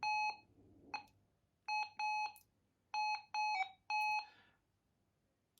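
A Minelab Gold Monster metal detector with small modifications, tested on nickel-plated copper wire, gives a string of clear electronic beeps, some single and some in quick pairs, loud and close in an otherwise quiet setting.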